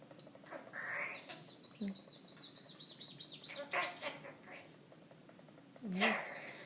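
A pet bird chirps in a quick run of short, bright tweets, close and fairly quiet, with a person talking softly before and after.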